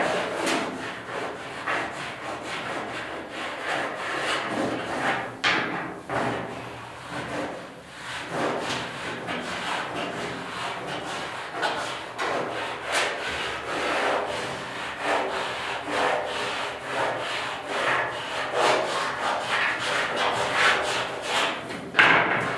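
Body filler is sanded on the bed of a 1972 Ford 4x4 short box truck, a steady run of close, rough back-and-forth rasping strokes kept up for the whole stretch.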